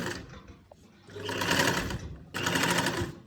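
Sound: sewing machine stitching a folded neckline with long stitches

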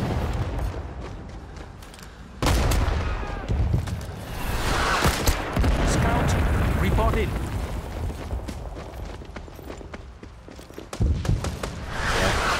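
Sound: artillery fire in the video game Rising Storm 2 Vietnam

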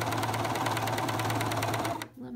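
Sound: Juki combo sewing machine sewing a coverstitch hem

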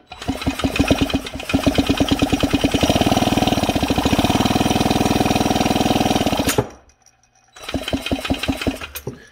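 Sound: drill spinning chainsaw engine

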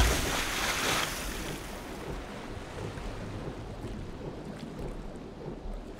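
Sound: party going into water in video game Legend of Grimrock 2

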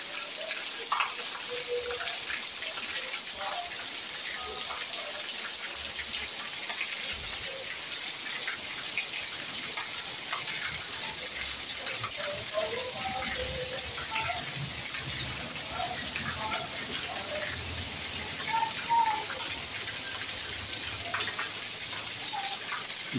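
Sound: heavy rain pouring

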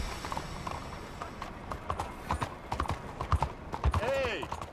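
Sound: horse hooves galloping, video game

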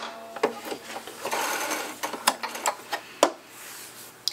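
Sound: Singer Brilliance 6180 sewing machine back stitching

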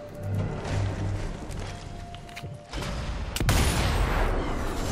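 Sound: gunshot in a video game

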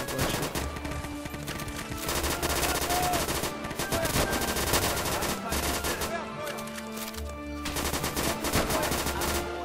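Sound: gunfire in the video game Easy Red 2

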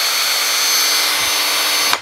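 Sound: Festool T18+3 cordless drill running

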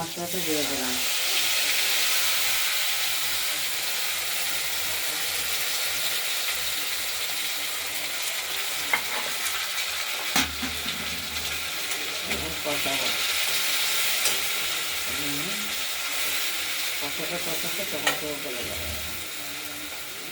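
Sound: ground spice paste frying and being stirred

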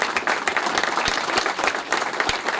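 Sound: audience applause

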